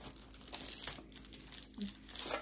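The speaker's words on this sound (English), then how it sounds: "I'm just opening the product so we don't take 5 minutes." Plastic packaging around an IPSY bronzer crinkles and tears close up in a quiet room, a continuous soft rustle with small crackling bursts and no talking.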